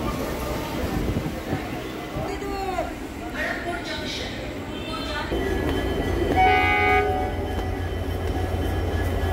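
A South Eastern line local train at Santragachi junction: a heavy rolling rumble with squealing wheel and horn-like tones rising over it, and voices murmuring in the background.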